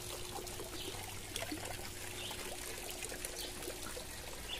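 Dissolved yeast water is poured into a daphnia pond, giving a faint, continuous trickle and splash with a low background hum and no talking.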